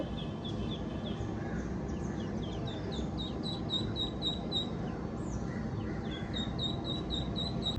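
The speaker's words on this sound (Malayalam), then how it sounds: "ഇതാണ് ഞങ്ങൾ താറാ കുഞ്ഞുങ്ങൾ" Three ducklings peep in rapid, high thin cheeps, several overlapping in quick bursts, close by against a soft constant background hiss.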